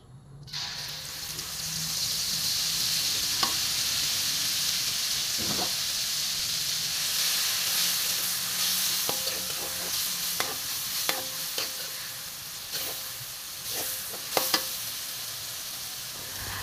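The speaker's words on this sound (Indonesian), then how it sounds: "Ini minyaknya udah panas, jadi langsung aja aku masukin bumbu ulekannya tadi." Ground spice paste hits hot oil in a wok, bursting into a loud, steady sizzle and hiss, with occasional sharp utensil clinks and stirring scrapes near the end.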